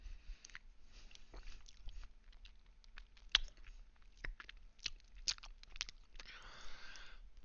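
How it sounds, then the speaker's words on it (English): Crunchy chewing heard close to a microphone, quiet irregular bites and crackling crunches spread across several seconds, with no talking. "I tried to mute that so you didn't have to hear too much of the crunching"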